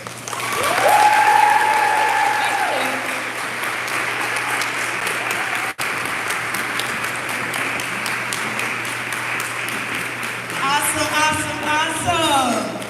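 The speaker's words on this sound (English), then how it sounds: "Y'all clap again for our young sisters" A crowd at the Soul Yoga Fest Resurrection 2021 awards dinner applauds steadily and loudly for several seconds, with a voice talking over the start and again near the end.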